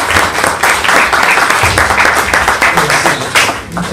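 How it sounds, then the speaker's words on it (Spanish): Audience applause welcoming a speaker at an academic talk on analogical hermeneutics, dense steady clapping filling the room at close range for a few seconds with no speech over it. "recibamos con un aplauso al doctor Velasco"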